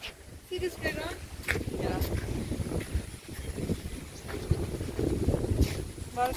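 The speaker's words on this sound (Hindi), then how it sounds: "आप हवा का आवाज आपको खुद भी आ रहा होगा, कितना तेज हवा दे रहे" Strong gusts of wind buffet the microphone on a hilly university campus in North Guwahati, a steady broadband rumble with rising and falling surges, while a person talks over it throughout.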